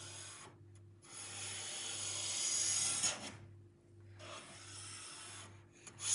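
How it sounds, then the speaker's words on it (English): A blade is sharpened by hand with two long, steady rasping strokes that rise and fade, close and fairly quiet, with a faint hum underneath. "That's how I sharpen my blades."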